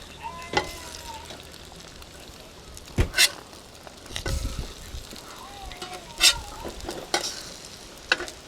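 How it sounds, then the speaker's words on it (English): Pork sausage and eggs fry on a nonstick Blackstone briefcase griddle set on a campsite picnic table outdoors, giving a quiet steady sizzle broken by sharp scraping and clinking spatula strokes, while birds chirp in the background. "this morning we are cooking some pork sausage and some eggs"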